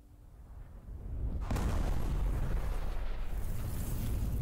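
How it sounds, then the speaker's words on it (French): A rumbling explosion at a primary school in the game Liberated starts after a quiet moment, a sudden deep boom that swells into a sustained loud roar and debris wash. "Une explosion a eu lieu à l'école Saint-Martin."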